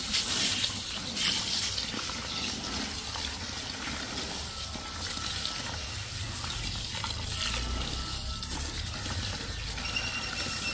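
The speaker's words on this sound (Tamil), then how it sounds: "அரிசியை நல்ல வடிவாக நீட்டாக கழுவி கொடுக்க வேணும்" Rice being washed by hand in water makes a continuous close sloshing and swirling, with a steady watery rush that carries on for several seconds and no one speaking.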